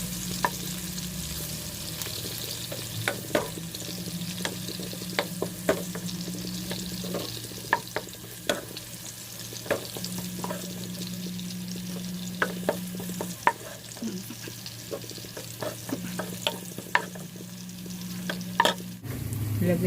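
Onion frying in a pan, a steady sizzle broken by frequent scraping clicks of a utensil stirring, close and continuous, with a low hum running beneath.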